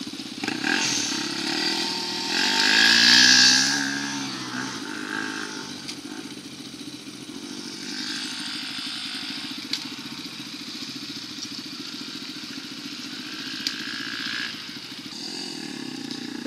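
A motorcycle runs along a one-way dirt track with a loud, steady revving engine drone that rises in a brief surge early on before holding a constant pitch, close by with no talking.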